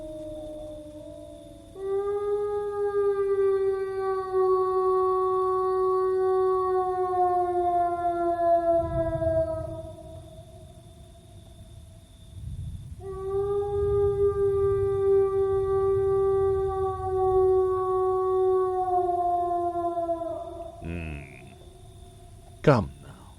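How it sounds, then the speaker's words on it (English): Wolves howling in a radio drama of Dracula: long, sustained wavering howls layered in several voices, rising in two extended choruses with a gap between, loud and close over a low rumbling backdrop. "The wolves? The children of the night."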